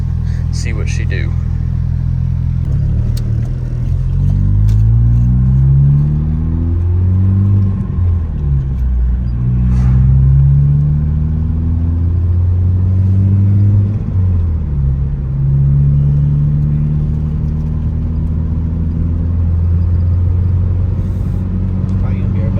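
A big turbo Ford Focus ST, freshly tuned with auxiliary fuel, accelerates hard through several gears from inside the cabin, each loud engine pitch sweep rising, then dropping at the shifts, with brief talk at the start.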